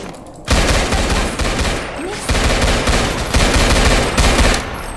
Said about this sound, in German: So, den ballern wir so um hier.